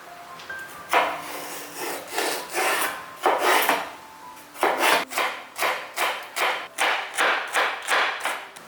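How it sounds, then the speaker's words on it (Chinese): A knife cuts peeled celery into strips on a wooden board, with repeated rhythmic chopping strokes, slow and spaced at first, then quicker and regular, close and clear with no voices. "芹菜削好后，去头去尾，这里的部分切成一条一条的。"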